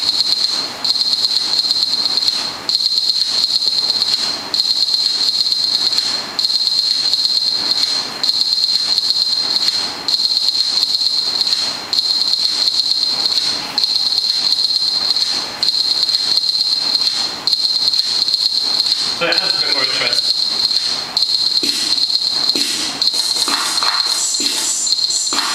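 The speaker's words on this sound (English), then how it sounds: "Simple shaker pattern, and I can change the velocities of the notes" Electronic shaker pattern played from a Jazzmutant Lemur controller, a hissy rhythmic swish repeating steadily throughout with slight accent changes, with no voices.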